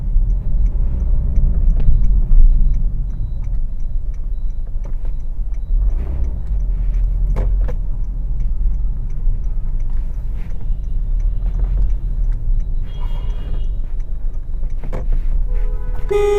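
A car driven on the road, its low engine and road rumble steady and close inside the cabin, with small clicks and a brief higher whir partway through.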